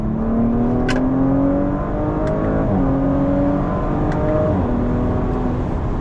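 A 2019 Audi RS5 Sportback pulls hard from third gear, its engine note climbing steadily in pitch from inside the cabin, loud and continuous with no talk.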